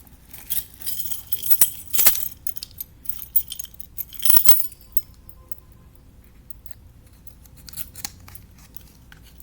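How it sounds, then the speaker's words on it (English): Keys jangle in bursts of metallic clinking and rattling, faint to moderate and spaced out over several seconds, with no talking. "Wait, I have my keys right here."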